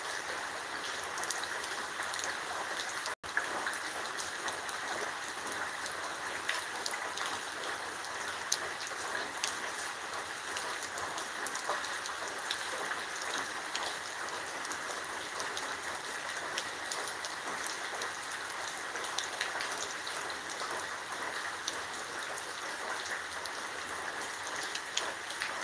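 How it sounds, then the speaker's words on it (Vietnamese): A historic heavy rainstorm pours down steadily, a dense, loud, unbroken hiss of falling rain with no talking throughout. "Đây là trận mưa lớn lịch sử ở vùng này từ trước tới nay."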